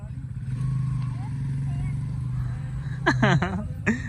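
A motorcycle passing on a rural Punjabi road makes a steady low engine drone that holds and then fades, while people talk loudly over it close by.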